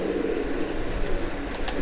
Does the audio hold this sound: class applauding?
no